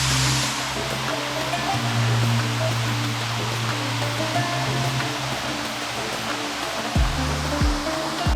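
Lanka Ella waterfall, also called Bambarakanda Ella, pours as a steady broad roar of falling water, with a low droning hum and a few sliding tones near the end.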